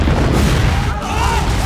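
A massive explosion erupts as an ancient being bursts free from underground, a loud sustained low rumbling boom with crackling debris, filling the whole moment without pause.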